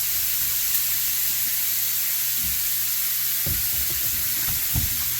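About a teaspoon of oil sizzles in a pan as a steady, even hiss, with a few soft low knocks near the end.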